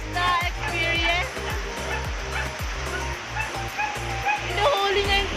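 Several dogs, a Chow Chow and Husky mix among them, bark and yip in bursts while they play outdoors in the first rain, with a steady wash of pouring rain underneath and people talking over it.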